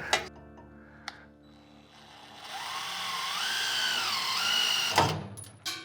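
A power screwdriver drives screws into a skid plate in a custom garage, with a motor whine that rises and sweeps for about two and a half seconds after a few sharp clicks, then stops abruptly with a clunk.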